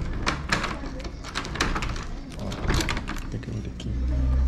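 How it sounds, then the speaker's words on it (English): A door at a motel in Gabon is pushed shut with a cluster of knocks and rattling clicks, followed by a rising low rumble, with a person talking nearby. "I gotta shut this door first."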